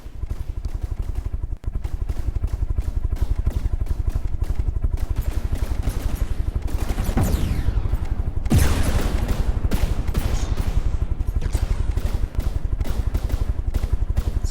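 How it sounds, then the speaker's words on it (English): Advanced custom cannons on a warship in a video game fire in a fast continuous barrage of booming shots, loud and sustained, with a heavy blast partway through. "Here, just unleashing with those advanced custom cannons."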